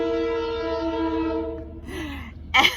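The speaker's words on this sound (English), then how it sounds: "Here comes a train" A train pulls into the Peekskill train station, its steady horn tones holding for over a second before fading, followed by a rising squeal and a louder hissing burst as it arrives close by.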